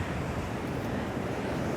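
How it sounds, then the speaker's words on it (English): Windy seashore with surf breaking against grippy coastal rocks, a continuous dense roar of wash and wind noise, steady and loud throughout. "Some nice waves coming in."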